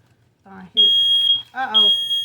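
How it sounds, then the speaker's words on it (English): A smoke alarm set off by smoke from home cooking sounds sustained piercing high beeps, starting abruptly, briefly pausing, then resuming loud and close, with a voice speaking just before and between the tones. "my little fire alarm. Because of the smoke coming off here"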